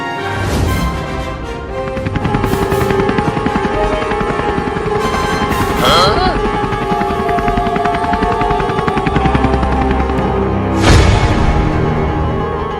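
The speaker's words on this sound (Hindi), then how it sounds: "वो पुलिस के पास हेलीकॉप्टर है, वही लाएंगे" A police helicopter's rotor thuds loudly and continuously throughout, with a few brief whooshing sweeps layered over the steady beat.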